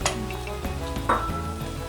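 A mizuna pancake (chijimi) hisses and sizzles steadily in hot oil in a pan as it is flipped, with a brief scrape of a utensil against the pan, close and continuous, with no talking.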